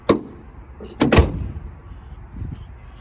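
A 2002–2005 Audi B6 A4 hood slams shut after a latch cable problem, giving two sharp near thuds about a second apart, the second louder, followed by faint rattling.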